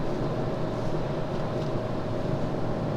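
A 2016 Fiat Panda Cross with the TwinAir 0.9 engine cruises in fifth gear at about 3,000 rpm and nearly 60 mph, giving a steady, even cabin drone with a faint humming tone and no voices.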